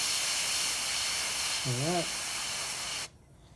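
An airbrush sprays Mission Models paint onto a Fujimi 1/24 Blade Runner Spinner model kit, giving a steady, close, loud hiss for about three seconds that cuts off abruptly. A short spoken phrase sits over the spray.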